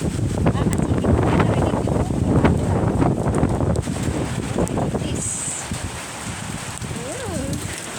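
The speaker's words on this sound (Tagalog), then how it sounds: "Lakas ng hangin. Binagyo na po." Strong typhoon wind in Taiwan roars and gusts continuously at close range, a dense broadband rush that eases slightly after a few seconds, with rain-like hiss and occasional knocks underneath.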